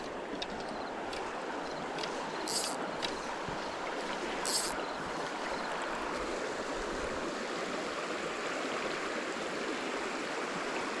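A North Carolina river runs below a bridge, giving a continuous, even rush of flowing water with a broad steady hiss throughout and a couple of faint brief clicks.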